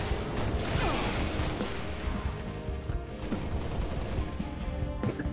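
Gunfire in a Halo: Reach firefight, with rapid bursts of close shots and crashing impacts over a dense, noisy battle background.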